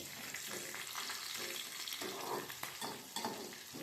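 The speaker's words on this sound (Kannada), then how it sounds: "1-2 ಹಸಿಮೆಣಸಿನ್ಕಾಯಿ ಹಾಕೊಳ್ಳೋಣ. ಅದು ಚೆನ್ನಾಗಿ ಫ್ರೈ ಆಗಲಿ." Green chillies fry in a pan for shavige uppittu, giving a soft, continuous sizzle with faint stirring scrapes, quiet and close.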